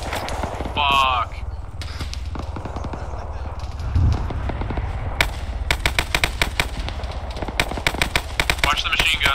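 Machine guns in a military video game fire in repeated rapid bursts, crisp and close, growing denser toward the end, with voices talking over the shooting.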